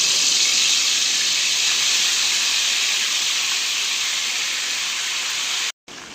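Chicken leg pieces for tangdi kabab frying in hot oil, a steady, loud, broadband hiss that runs without a break and cuts out briefly near the end.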